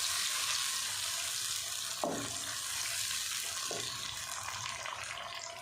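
Two medium tomatoes go into a hot pan for a dhaba-style aloo gobi matar sabzi. A loud, steady sizzle of frying oil carries throughout, with a couple of brief clatters as they land and get stirred.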